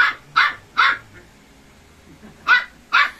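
A puppy barks in sharp, yappy bursts: three quick barks, a pause, then two more, fairly close.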